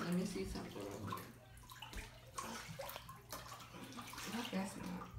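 Water pours from a tap into a bathtub being filled for a milk bath, a steady splashing rush with gurgles, heard under muffled voices nearby.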